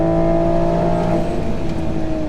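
A Stage 3 760hp Toyota Supra launching down a drag strip, its engine a loud sustained droning roar with steady harmonic tones that hold briefly then ease slightly, close and without voices.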